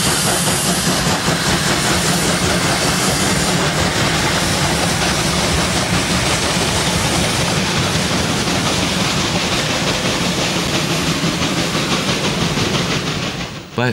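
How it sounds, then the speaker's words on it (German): Two DB class 001 steam locomotives pull an evening express train out of Lichtenfels toward Hof, giving a loud, sustained roar of steam and rolling wheels with rapid rhythmic beats that stays strong until the end. "Abendliche Ausfahrt eines Eilzugs aus Lichtenfels nach Hof mit zwei Maschinen der Baureihe"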